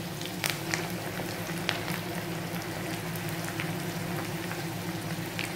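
Onion pakoda batter dropping into hot oil, with a steady close crackling sizzle throughout and scattered sharper pops, with no talking.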